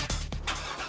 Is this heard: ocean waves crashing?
no